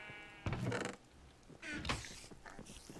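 Sheep in the Minecraft Better Than Wolves mod bleat twice in short, wavering calls, fairly close and clear, with quieter game sounds between them.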